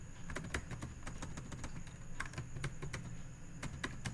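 Rapid typing on a computer keyboard, a steady stream of crisp key taps at close range with brief irregular pauses, over a low background hum.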